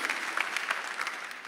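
A congregation applauds in a church hall, dense steady clapping from many hands that holds at an even level before tapering slightly at the end, heard from a moderate distance.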